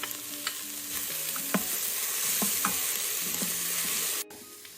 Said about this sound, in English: We're now going to add 3 cloves of chopped garlic, and we're going to let that go for 1 more minute altogether